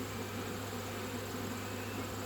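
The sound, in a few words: honeybees flying up from a slipped hive frame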